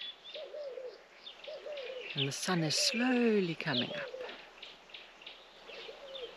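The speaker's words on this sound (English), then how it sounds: "You just hear the birds." Birds call on a quiet early morning in the Namibian wild, with soft repeated cooing notes and a few brighter chirps, faint and distant under a person talking.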